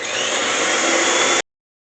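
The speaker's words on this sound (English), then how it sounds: "into the egg whites with my electric mixer" An electric mixer whisking egg whites and sugar into meringue, a steady close whirring buzz that runs evenly for over a second and then stops abruptly.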